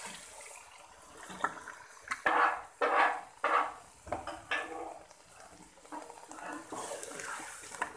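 Mustard greens saag being sautéed and stirred in a pan, with soft scraping and a few louder clattering strokes of a spoon against the pan over a faint low sizzle, and no voices.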